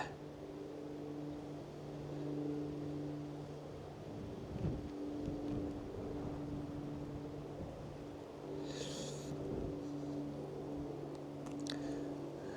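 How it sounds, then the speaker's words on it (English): Strong wind buffets the microphone in a steady low roar with gusting swells, high on a hike at Coombe Bottom on the Isle of Wight, alongside a faint constant tonal hum. "Strong wind"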